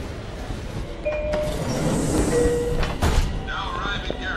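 Train rumbling and rolling along the rails with faint wheel squeals, fairly loud and steady, with talk mixed in.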